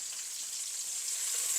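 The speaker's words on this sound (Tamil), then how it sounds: "இதில் தக்காளி பழத்தையும் சேர்க்குறேன். சேர்த்து கொஞ்சம் நல்லா வதங்க விடுவோம்." Onion and tomato sautéing in a pan give a steady, soft, hissing sizzle that holds evenly throughout, fairly close and quiet with no voices.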